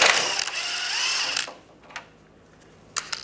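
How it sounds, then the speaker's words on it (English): A ratchet with a 13mm socket spins out the bolts on an under-vehicle shield of a 1996-2002 Toyota 4Runner, a close burst of rapid clicking for about a second and a half, then a few short taps and a brief final whir. "we're going to take this shield down using a 13mm socket"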